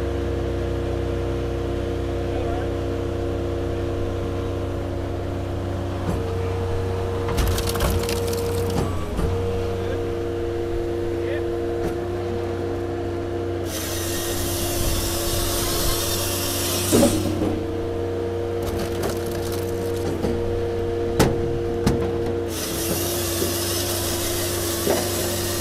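A DYNA SC16 firewood processor works cherry and pine logs, its engine droning steadily throughout. Several bursts of loud, bright saw cutting and splitting rise over the hum, and no one talks.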